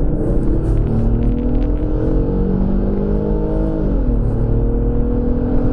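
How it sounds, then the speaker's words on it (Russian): An Infiniti M35X with a naturally aspirated V6 pulls hard under acceleration, giving a loud, continuous engine drone that climbs in pitch, eases briefly as if shifting, then climbs again. "Звук атмосферного мотора никогда ни с чем не перепутаешь, особенно большого, вот V6 либо V8."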